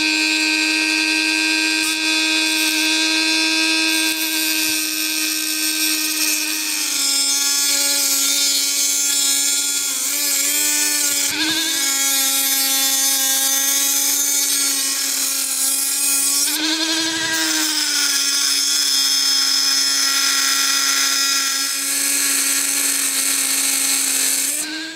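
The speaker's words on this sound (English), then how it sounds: "we're going to grind it off with the Dremel and then drill it out" A Dremel rotary tool grinds down a seized bolt on an old rusty engine during a rebuild, a steady high-pitched whine running throughout with pitch dips under load, close and loud, with no talking.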